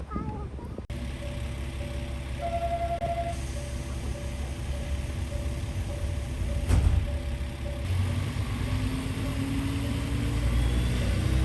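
Local JR Nichinan Line train pulling out of Aburatsu station bound for Minami-Miyazaki, heard from aboard as a low, steady engine rumble that rises gradually, with a brief clank midway.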